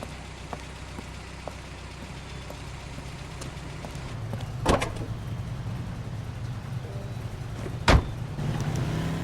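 A car in the video game LA Noire drives along with a steady, low engine hum, broken by two sharp knocks partway through.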